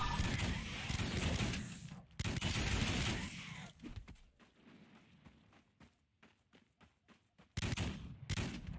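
In the video game Wolcen: Lords of Mayhem, bursts of loud gunfire and booming explosions come in dense clusters, separated by quieter gaps with scattered single shots.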